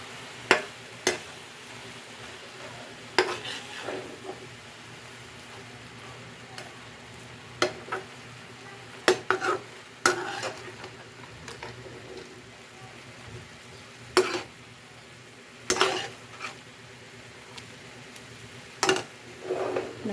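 Bean sprouts are stir-fried in a wobbly pan at home, a soft sizzle under repeated sharp scrapes and clacks of a utensil against the pan at irregular intervals, fairly quiet overall.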